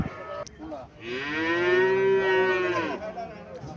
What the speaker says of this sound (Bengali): আরো একটা দেশি গাভি দেখা যাচ্ছে